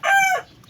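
A farm rooster crows once, loud and close, a single drawn-out harmonic call that drops off at the end and is followed by quiet.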